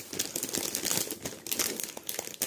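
Plastic sachet crinkling as a diamond painting canvas is worked back into it, a close, continuous rustle and crackle over a couple of seconds, no talk.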